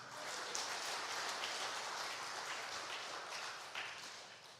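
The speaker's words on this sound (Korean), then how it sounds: "예, 박수 한번 쳐주세요." A church congregation claps steadily through a Sunday morning service, the applause sustained and even throughout, heard at a moderate distance with no voices over it.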